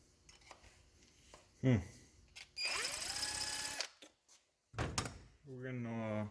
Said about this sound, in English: Drilling a little bit of a hole there.